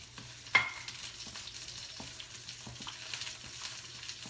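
Shellfish and garlic are stir-fried in a pot, giving a continuous sizzle with a sharp clatter near the start and soft scraping stirs throughout.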